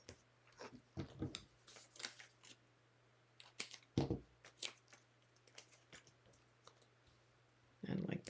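Scissors make scattered short snipping clicks while cutting papercraft pieces for a scenic coast card project, close and fairly faint, with quiet gaps between them.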